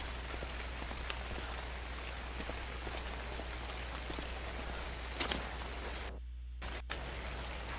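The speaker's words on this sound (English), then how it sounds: "It's raining and there's not a cloud in the sky." Rain falls steadily in the survival video game Ark, a constant hiss of drops on surfaces with a low hum beneath, broken near the end by a brief clatter and a short cut-out.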